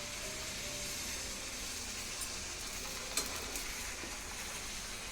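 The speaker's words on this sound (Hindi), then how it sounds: "आज पूड़ियाँ बन रही थी तो मैं यहाँ पे बेल दे रही हूँ और मम्मी निकाल दे रही हैं" Puris deep-fry in hot oil at home, a steady soft sizzle running without a break, quiet and close, with a small clink partway through.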